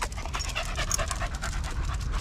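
A dog pants rapidly and continuously, with quick breathy in-and-out huffs at a steady rhythm, close and fairly loud.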